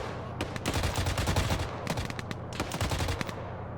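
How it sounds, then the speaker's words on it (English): Rapid bursts of automatic grenade machine gun fire in Arma 3, a military shooter, come in several quick strings of loud, sharp reports with short pauses between volleys, with no talking over them. "there's the GMG firing off again"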